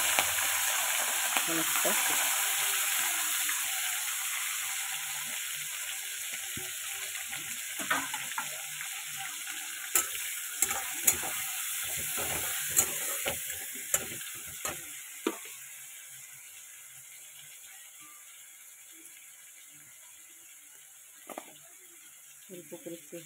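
Shrimp sizzling and frying in a pan with tomato, a steady broadband hiss with scattered crackles and spatter pops throughout, close and fairly loud, with a brief spoken word.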